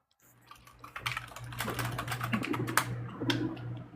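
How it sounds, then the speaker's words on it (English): Rapid clicking keystrokes on a computer keyboard, close and fairly loud, in an irregular stream of taps with a steady low hum underneath. "What do you think you're typing there"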